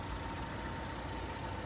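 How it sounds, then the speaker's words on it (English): A Citroen C3 engine idles with a steady, close, low hum and a faint constant tone above it, and no voices. "I've got the engine on, let's turn it off a sec."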